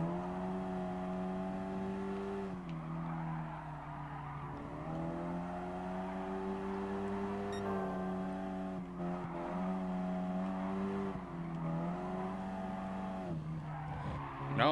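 A race car driven through a Sunday Cup event in Gran Turismo Sport holds a steady, tonal engine whine that rises and falls through gear shifts and corners, with tyre squeal, heard close and constant.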